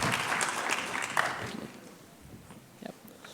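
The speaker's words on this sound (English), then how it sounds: "one last round of applause for our teachers and seniors" An orchestra concert audience gives a final round of applause for teachers and seniors, a short burst of clapping that quickly fades to scattered claps and low murmur.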